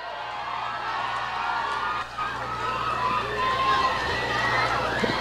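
A crowd at a political gathering in Davao applauds and cheers for Dante Marcoleta's representative, a dense, steady roar of clapping and voices that continues throughout.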